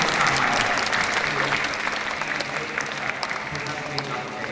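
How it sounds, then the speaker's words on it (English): A crowd applauds for a woman after she is thanked at a school pupil enrichment pep talk, steady dense clapping filling the room for several seconds, loud and close. "please give a big round of applause to Ms. Maya"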